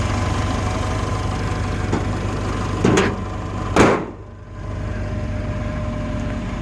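A 1963 Lincoln's engine idles with a steady low hum while two sharp thuds ring out, the second and louder one being the trunk lid slamming shut, followed by a brief dip before the idle carries on.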